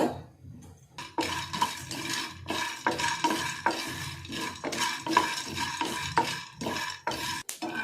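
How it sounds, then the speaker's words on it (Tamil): Peanuts dry-roasting in a pan are stirred briskly, giving a rhythmic series of close rattling scrapes and clatters of nuts against metal with a faint sizzle beneath. "ஒரு அஞ்சு நிமிஷம் நல்லா வேர்க்கடலையே வறுத்து எடுத்துக்கலாம்"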